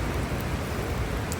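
Steady broadband patter of rain falling on a camera outdoors in wet Scotland, constant and fairly loud with no pauses or voices.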